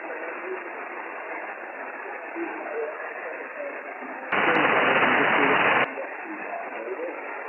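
Steady hiss of radio static on the 40-metre ham band with a faint, barely audible voice buried in it, then a brief louder burst of noise before the hiss returns.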